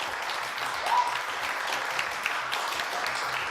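Studio audience applauding loudly for a comedian introduced on a French TV show, dense sustained clapping from start to finish with a few brighter claps standing out.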